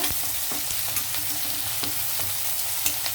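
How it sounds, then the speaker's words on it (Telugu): Onions and curry leaves spluttering in hot oil for a Telugu mutton curry with tender tamarind leaves, a loud continuous crackling sizzle with sharp pops scattered through it, close up and without talk. "ఉల్లిపాయలు కరివేపాకు వేస్తాను ఇందులోను. అందువల్ల కరివేపాకు వేయడం వల్ల చిప్పట్లాడిందనమాట"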